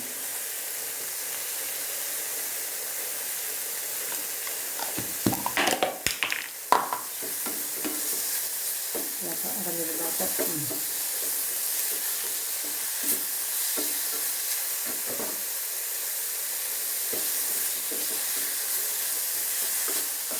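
Sliced tomato and onions sauté in a pan for a fish roast, giving a continuous hiss and sizzle with occasional stirring scrapes and clatter of a utensil, close and steady throughout with no talking.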